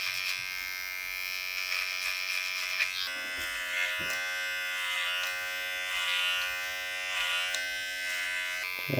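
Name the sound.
hair clippers cutting a taper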